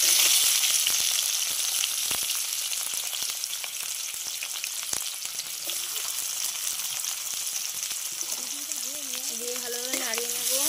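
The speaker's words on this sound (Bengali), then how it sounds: "পেঁয়াজটা ভালোভাবে বাদামি কালার করে ভেজে নিয়েছি" Sliced onions browning in hot oil in a pan with cumin seeds and a dried chili, a loud continuous sizzle and crackle close by, with faint tonal whines toward the end.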